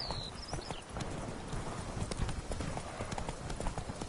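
Horse hooves clip-clop steadily in Witcher 3, a rapid even rhythm of game hoofbeats running through the whole stretch over a busy ambient bed, with a brief bird-like chirp near the start.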